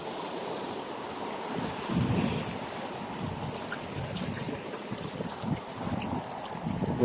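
Strong sea waves churning around a boat off Bataan, a steady broadband wash of water and wind buffeting with surges and splashes throughout, no talk.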